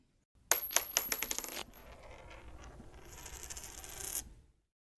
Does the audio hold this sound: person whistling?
no